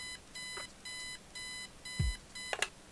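Alarm clock in the Kathy Rain video game ringing in repeated harsh electronic beeping bursts, about four evenly spaced pulses, followed by a low thud and a brief clatter.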